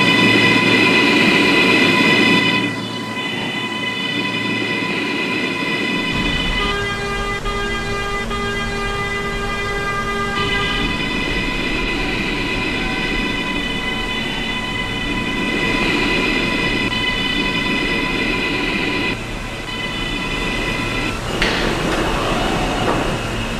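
R143 subway train on the B line in a Roblox train simulator game: a continuous electric motor hum with steady whining tones that shift pitch as it runs, over a loud rumbling bed.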